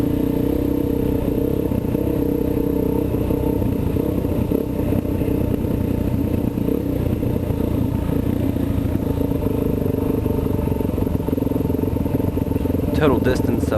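A Husqvarna 610 dirt bike ridden through the Clinton County woods, its engine droning steadily and close with rough, clattering texture throughout, mixed with riding noise and occasional rising revs near the end.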